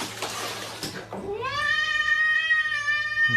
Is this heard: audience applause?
no